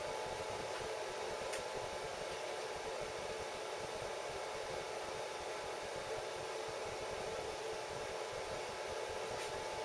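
A wet/dry shop vacuum runs steadily while sucking up metal chips during slow CNC milling of a nut pocket on a PM-30 mill, a continuous loud airy whoosh with a high whine, no talking.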